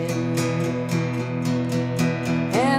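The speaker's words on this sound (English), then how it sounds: "what I would recommend to make this sound a little bit more like the song is to play it as 8th notes" A guitar plays a song-style chord pattern in steady eighth notes, all down strums. The evenly spaced strokes ring loud and close, with no voice.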